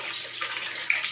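Water from a water pump runs in a steady, close hiss with a slight gurgle. It holds an even level for about a second and has no speech over it.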